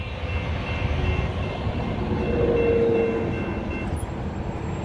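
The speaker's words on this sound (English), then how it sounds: "There goes the train." A Union Pacific intermodal freight train led by locomotive 8392 rolls southbound past the Arizona Public Service Corporate level crossing, a steady broad rumble of wheels and cars throughout, swelling slightly midway with a faint tone overhead.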